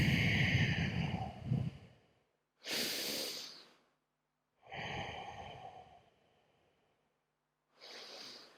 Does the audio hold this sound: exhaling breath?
yes